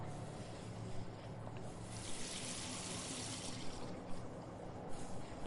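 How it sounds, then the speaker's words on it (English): Running water rinsing a plate in the adventure game The Last Door, a soft continuous faucet-like stream that swells in the middle, quiet and steady under a low background hum. "All that remains is to rinse the plate."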